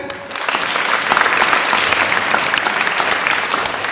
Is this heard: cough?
no